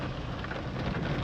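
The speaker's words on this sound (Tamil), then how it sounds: "நல்லா மழை பெய்யுது அங்கே பாருங்கள்" Heavy rain pours steadily in the Nagarhole Tiger Reserve forest, a dense, even hiss of drops with no voices over it.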